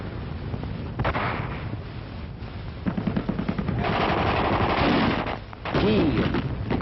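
Gunfire in 1944 Paris during the city's liberation, recorded on an amateur film soundtrack: repeated bursts and cracks of shots in an ongoing exchange, loud and continuous with a dense rumbling background and no clear talk.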